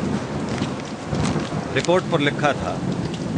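Rain falling outside, a dense steady hiss of downpour that runs throughout, with a voice speaking over it in the second half.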